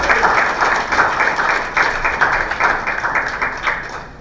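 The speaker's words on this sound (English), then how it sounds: "A hand of applause to His Excellency," Audience at a Kenyan political gathering applauding the Deputy President, with a steady patter of hand clapping that swells and dips in waves, fairly close and loud.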